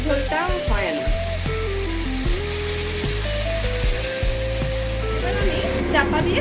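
Potato curry sizzles steadily in a frying pan as a little water goes in, a continuous hiss running under a tonal background of music or voice.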